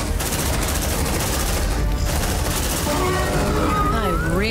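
In Aliens: Dark Descent, a dense, steady burst of rapid gunfire rattles on loudly and without pause, with a voice speaking near the end.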